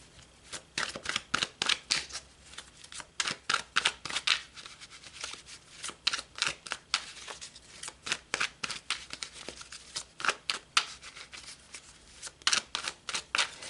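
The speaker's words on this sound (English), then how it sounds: "So let's pull some more cards." Tarot cards being shuffled and pulled from the deck: rapid papery riffles and flicks in irregular bursts, close and crisp, repeating steadily with no one talking.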